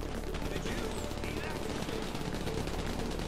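Rapid gunfire in the video game GTA V, dense bursts of shots crackling almost continuously under a constant low rumble, fairly faint and mixed with game noise.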